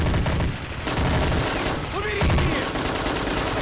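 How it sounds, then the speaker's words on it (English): Heavy automatic gunfire in a battle simulation video game firefight, with sustained rattling bursts and overlapping shots that carry loud throughout. "Quite a firefight going on right there."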